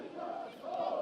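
Football fans of Olimpija Ljubljana cheer at an away Slovenian league match in Sežana after a goal, heard as a faint, distant, sustained crowd roar in one short swell.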